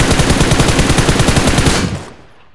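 A DP light machine gun in PUBG Mobile fires a loud, rapid, evenly spaced burst of around twenty shots, then stops abruptly and the sound fades away.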